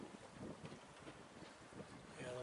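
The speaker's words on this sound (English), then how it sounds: "the wind's coming up a little bit more now too" Wind blows across a sailboat at sea, a steady, soft rushing with gentle buffeting and faint water movement, building slightly toward the end.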